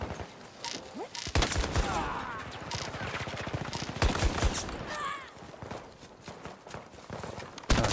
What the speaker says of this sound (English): So I'm killing so many people with this shotgun.